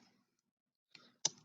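A computer mouse clicked while working on a Word resume template, two quiet sharp clicks separated by a short pause in an otherwise near-silent room.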